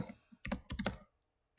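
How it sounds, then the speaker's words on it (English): A few quick clustered keystrokes on a computer keyboard, close and fairly quiet, tapering off into silence with no talking. "rather than make you sit through my bad typing"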